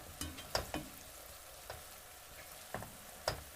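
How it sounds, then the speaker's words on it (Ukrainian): Oil sizzles softly beneath a few sharp clatters as pieces of eggplant are stirred in a pan with fried onions, with intermittent scraping knocks. "До цибулі додаємо баклажани, перемішуємо і смажимо"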